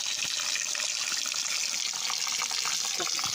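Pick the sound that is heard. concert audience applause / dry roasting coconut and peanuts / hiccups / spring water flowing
spring water flowing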